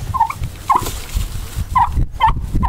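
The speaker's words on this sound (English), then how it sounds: "Go see a turkey, gobble, gobble." A turkey at a mission farmyard gobbles in about four short, close bursts spread over a few seconds, with no voices over them.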